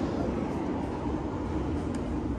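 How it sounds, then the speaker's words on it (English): A steady, heavy rumble of a train rolling past over a bridge in Lisbon, Portugal, continuous roaring noise with no pauses, fairly close. "That was the train right there, right?"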